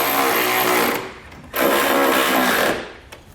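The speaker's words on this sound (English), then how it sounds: "we'll head underneath and use a 13mm socket here as well to tighten down this hardware" Power tool driving a 13mm socket to tighten nerf bar mounting hardware from underneath a 2016 Nissan Frontier, in two loud buzzing bursts of about a second each separated by a brief pause, with no talk.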